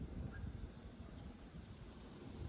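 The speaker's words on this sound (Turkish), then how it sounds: "Rüzgar esiyor." Wind blows steadily outdoors at altitude, a faint low rushing hiss with soft buffeting and no distinct gusts, heard on its own without voices.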